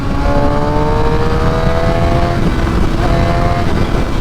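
A super sport motorcycle engine revs hard at high RPM, its rising harmonic whine climbing steadily near and loud, briefly dipping then pulling up again under steady wind roar.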